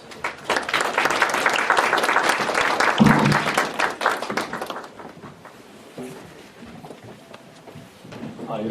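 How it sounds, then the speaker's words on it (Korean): Audience applause at a university lecture colloquium on philosophy, dense clapping for the first five seconds, then thinning to scattered claps as the room quiets. "박수로"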